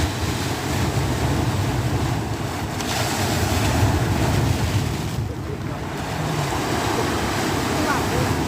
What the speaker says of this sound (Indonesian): Lihat tuh ombak tuh